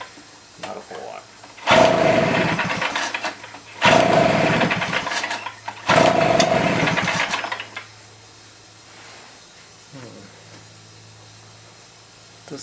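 A Stihl BR400 backpack blower engine, flooded and choked, fires in three loud roaring bursts of about two seconds each, separated by brief near-silent gaps, then fades to a faint idle rumble.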